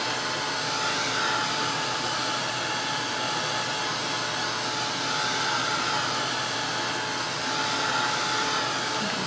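A hair dryer blows steadily on wet acrylic paint in an art journal, producing a loud, constant whooshing roar with a faint motor whine, close and unbroken, with no talking.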